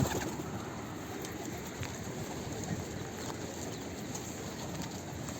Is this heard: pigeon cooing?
yes